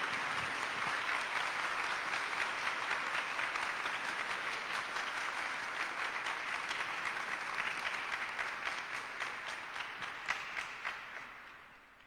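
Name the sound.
audience applause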